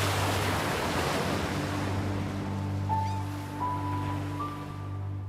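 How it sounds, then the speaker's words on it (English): Ocean surf roars steadily with gusting wind, a loud continuous wash of breaking waves, while faint rising tonal whistles appear toward the end. "the 15-foot waves crashed around him"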